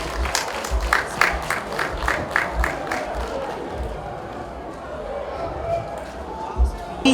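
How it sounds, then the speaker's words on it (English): An audience at a coronation event applauds the chiefs, with rhythmic clapping and some cheering over a crowd murmur, fading toward the end. "Please give them a round of applause."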